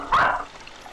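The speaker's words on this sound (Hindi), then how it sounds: "अबे क्यों भौंक रहा है बे?" A dog gives a single short bark at the door of a home, fairly close and loud, followed by quiet room sound.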